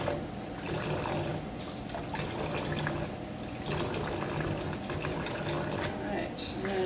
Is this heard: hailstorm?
no